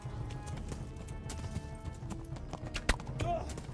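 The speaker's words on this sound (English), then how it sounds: "Come on, horsey." Horse hooves clip-clop steadily in the medieval game Kingdom Come: Deliverance, a brisk even trot over a low rumble of ambient game sound, with a sharper thump near the end.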